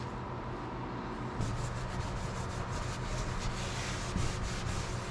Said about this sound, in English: I think I should dust this off a little bit.